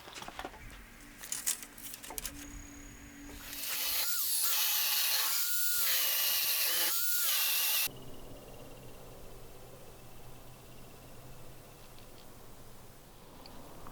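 A power drill whines into laminated wood for a workbench top for a few seconds, rising and dipping in pitch as it bores holes, between quieter stretches of workshop hum.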